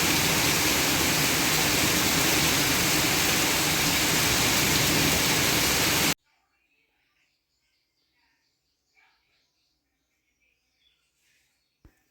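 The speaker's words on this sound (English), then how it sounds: "it's just about to rain." Heavy rain pours down on a homestead, a loud dense hiss for about six seconds that cuts off abruptly, followed by near silence with a few faint, scattered small sounds.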